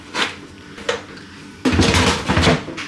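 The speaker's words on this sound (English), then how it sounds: "So get out your air fryer, pop in your bacon." An air fryer basket drawer is handled while bacon goes in: a few soft knocks, then a louder burst of plastic and metal clatter and rattling, close up.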